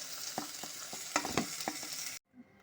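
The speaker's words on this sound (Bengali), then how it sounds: "তেলের মধ্যে আমি বেগুনগুলো ভেজে নেব।" Brinjal pieces frying in oil in a pan, a steady sizzle broken by stirring and scraping knocks, ending abruptly in near silence.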